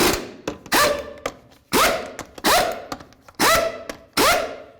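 Lug nuts being run down on the front wheel of a 1988-2002 GMC Sierra 1500, a close series of loud ratcheting bursts with clicks and clunks between them, no talk.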